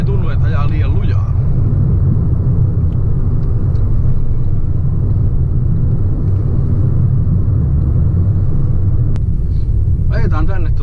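A 2007 Fiat 500 with a 1.2-litre engine drives at speed, giving a steady, loud low road and engine rumble throughout, with someone talking briefly at the start and end.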